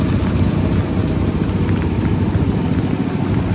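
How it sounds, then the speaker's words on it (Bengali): Light rain patters steadily on leaves and ground in an outdoor village setting, a continuous even wash of drops close by with no voices. "এখন একটু বৃষ্টিটা কম, হালকা হালকা পড়ছে।"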